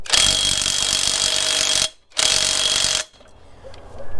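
A cheap knockoff impact wrench hammers loudly at the lug nuts of a 1-ton truck chassis, running in two near bursts with a brief pause between them, then cutting off into quieter workshop noise.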